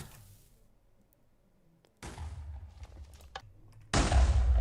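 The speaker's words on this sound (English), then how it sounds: "that was the final explosion" TNT blocks exploding in the Minecraft video game, a low rumble followed by two abrupt, booming blasts, the last one loudest and closest, with no speech.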